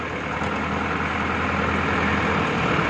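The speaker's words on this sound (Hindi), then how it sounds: "ये ट्रैक्टर हमारा सोनाली का 750 है जो बहुत ही ज़्यादा पावर है इस ट्रैक्टर में" A Sonalika 750 tractor engine runs at a steady, moderately loud rumble, a constant low mechanical drone with no other sounds.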